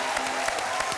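A brief burst of audience applause from a TV stage show crowd, even and fairly loud throughout, with scattered sharper claps standing out.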